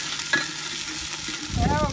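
Hot oil sizzles as a tadka tempering for beef biryani is stirred, a short close burst of crackling frying that swells louder toward the end, with no talking.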